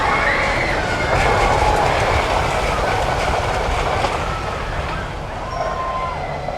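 Runaway Mine Train roller coaster at Alton Towers, a steady train rumble with clattering wheels on track and faint squeals, heard continuously at moderate distance amid park ambience.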